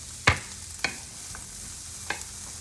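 Onion cooks in a hot skillet: a faint, steady sizzle is broken by three sharp utensil taps against the pan.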